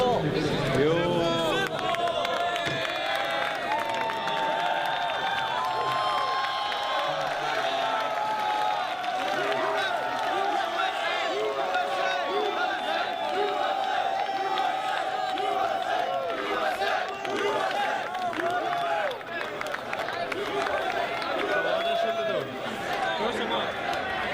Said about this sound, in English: you can kind of see the crowd reaction